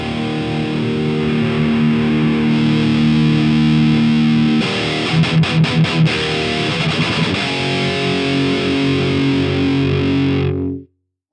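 Distorted electric guitar played through a Mesa Boogie Mark IIC++ reissue amp, sustained saturated chords that break into a choppy, rhythmic muted section midway before ringing out again and cutting off abruptly at the end.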